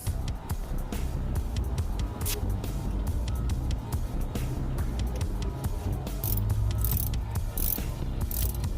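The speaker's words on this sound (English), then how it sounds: "Now it's time to tighten up the bolts." A ratchet wrench tightens bolts on a 2005 Chrysler 300C, clicking rapidly and steadily over a continuous low hum, close and fairly loud throughout.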